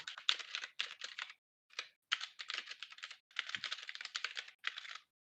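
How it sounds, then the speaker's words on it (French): Rapid typing on a cheap full-metal mechanical keyboard comes as clattering bursts of key clicks separated by brief pauses, close and crisp with no talk. "je reconnais le bruit de touche"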